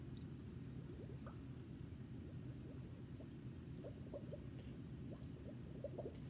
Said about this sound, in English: I'm going to get a straw and I'm going to blow into this beaker full of water